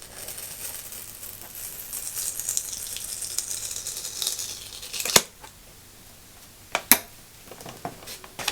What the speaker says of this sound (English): Cellophane catches on it, you know, that you need to pick off